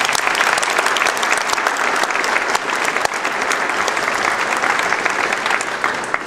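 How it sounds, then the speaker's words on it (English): A crowd applauds loudly and steadily, dense clapping sustained for several seconds without pause. "Can we get a big applause for them, please?"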